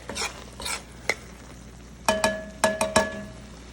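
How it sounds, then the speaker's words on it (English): Okra tossed into a pan for bhindi masala: brisk scraping strokes and sharp metallic clinks of a spoon against the pan over a faint sizzle. "So I think I'm gonna go ahead and add my okra."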